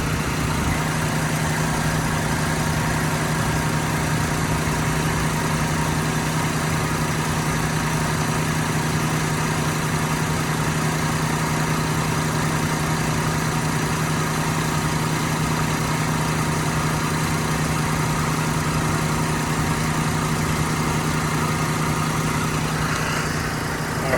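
A 2006 Mazda MX-5 Miata Grand Touring with a six-speed manual runs at a steady idle, its engine a continuous low hum with a faint tonal drone. The car sits near the listener the whole time and no voices are heard.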